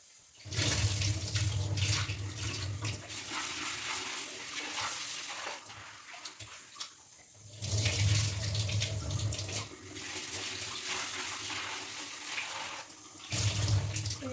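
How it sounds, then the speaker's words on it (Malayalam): Beans are rinsed under a running kitchen tap, the water gushing in long, steady streams that stop briefly twice before resuming. "പയർ കഴുകി വെക്കാം"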